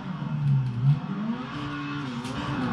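Specially modified car with three exhausts revving in a couple of rising and falling surges, a loud, close, throaty engine note with no talk over it.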